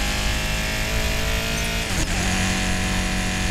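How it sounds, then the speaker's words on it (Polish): A tuned Mercedes-AMG in Need for Speed Payback gives a loud, sustained engine roar with a dense harmonic drone that briefly dips and surges near the middle. "Sprawdź dźwięk jakiegoś AMG przed i po tuningu."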